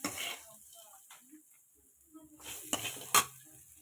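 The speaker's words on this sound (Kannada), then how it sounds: "ಅನ್ನಕ್ಕೆ ಮಿಕ್ಸ್ ಮಾಡ್ಕೊಳ್ಳೋಣ." Lemon rice paste is stirred into cooked rice in a pan with a spoon, making soft, intermittent scraping and mixing sounds. A few sharp utensil clinks come near the end, all fairly quiet.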